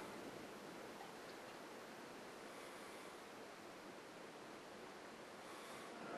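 A Red Hook ESB beer is poured down the center of a glass, producing a faint, steady foaming hiss that carries evenly from start to finish with no talking.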